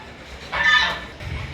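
Hens on a small backyard farm cluck in a brief burst near the middle, moderately close, followed by a softer low rustle.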